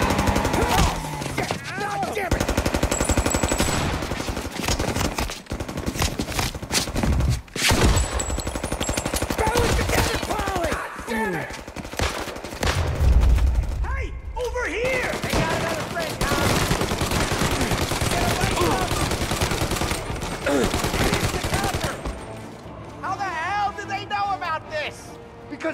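Video game robbery shootout with rapid machine-gun bursts and scattered gunshots, loud and continuous for most of the stretch, while characters shout and talk over the gunfire.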